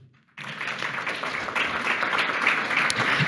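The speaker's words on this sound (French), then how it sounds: "vous pouvez vous applaudir." An audience at a public round table breaks into sustained applause, dense clapping starting abruptly and holding steady, with a few voices faintly underneath.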